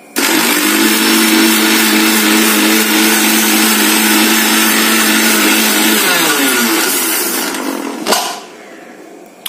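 A mixer grinder pulses dried curry leaves into powder, a loud, steady motor whir that runs for several seconds, then winds down and stops with a brief clunk, leaving quiet hum.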